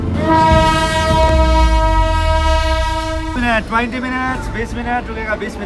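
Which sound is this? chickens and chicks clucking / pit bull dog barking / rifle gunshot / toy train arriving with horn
toy train arriving with horn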